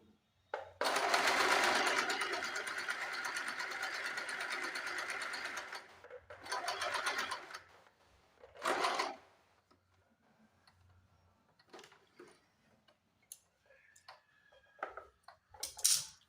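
A sewing machine stitches a half-inch folded hook strip in a long close run, then a shorter burst and a quick one, followed by faint clicks and fabric handling.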